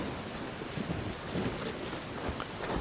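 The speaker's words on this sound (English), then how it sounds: "It's raining." Steady rain pours outdoors, a dense, even hiss that fills the whole stretch with no break and no one talking.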